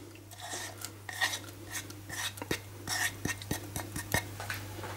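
Soup with coarse chard and coconut milk being stirred in a pot over a low flame, with soft scraping and light clinks of a spoon against metal over a steady low hum, the strokes growing more frequent toward the end.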